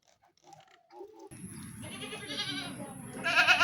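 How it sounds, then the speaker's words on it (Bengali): Goats bleating nearby, a few soft calls at first, then louder, wavering bleats overlapping with a steady high whine and outdoor background noise. "এখানে এই ছাগলগুলো ছিল, ছাগলগুলো ডাকছিল।"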